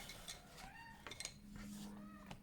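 Chickens cluck faintly in the background, with a few short, scattered calls and one longer drawn-out note toward the end over a quiet room.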